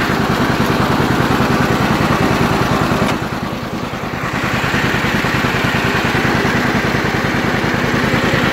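An antique John Deere Model B tractor engine idles close by in a steady, rapid low chugging beat, dipping briefly in level partway through before settling back to the same even pulse.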